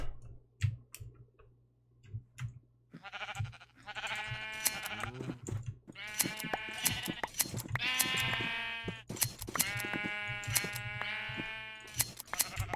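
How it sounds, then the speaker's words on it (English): Sheep in a Minecraft modpack video game bleat in a series of drawn-out, wavering calls, several overlapping and fairly close, with faint clicks and ticking game sounds in between and no talk. "Good thing I have sheep."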